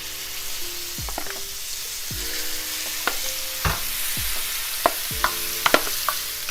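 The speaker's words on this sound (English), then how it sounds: "Okay, fry up these beans." Beans fry in a good amount of canola oil over a high flame, giving a loud, steady sizzle close up, with occasional sharp pops and utensil clinks and no voices.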